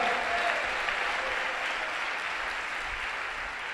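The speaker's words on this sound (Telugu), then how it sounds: "కొట్టు చప్పట్లు గట్టిగా." A church congregation applauding together, a dense, even wash of hand claps that holds steady from start to finish and then eases slightly, with no talking over it.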